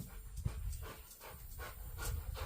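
A dog pants steadily and rhythmically close by, a run of quick breathy huffs repeating without break in a garage where an S10 pickup is undergoing an LS engine swap.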